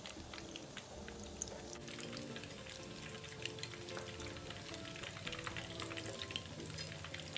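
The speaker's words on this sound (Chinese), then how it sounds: "将肉末丸子生坯均匀过个蛋液，然后直接放入油锅内油炸。" Curry meatballs dipped in egg are deep-frying in oil heated to about 120–130°C over medium-low heat, giving a steady, dense crackling sizzle throughout with no talk.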